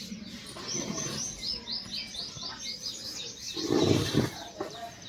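Peacocks call in a village in the morning, where they come to eat grain. A rapid series of high chirping cries runs over steady background noise, followed by a louder, rougher burst near the end.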